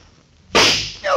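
A sharp gunshot sound effect goes off from a trap in a radio drama, a sudden loud crack after a quiet moment, followed by a brief second burst of noise.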